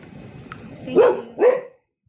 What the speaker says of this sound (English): Woof, woof, woof. I've heard it all before, Lucy.